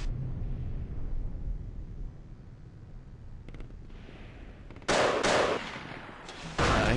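Gunfire traded in a competitive video game match: muffled distant shots and rumble at first, then two loud, close bursts of rapid fire near the end.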